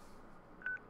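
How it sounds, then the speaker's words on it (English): One short beep from a flip phone keypad in Crisis Core: Reunion, a clean electronic dialing tone heard quietly over a faint game background. "I love this little flip phone."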